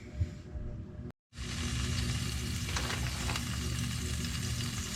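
Peppers, onions and other veggies sizzle loudly and steadily in a frying pan, close by, with a brief gap as they go in before the frying noise surges back and continues alone.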